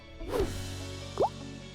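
Sugary glaze drips onto a decorated pink cake, with two quick, close wet plops in an otherwise quiet moment.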